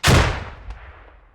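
A single heavy .50 caliber gunshot in a military video game, a loud close boom with a long decaying tail and faint later echoes, alone without talk.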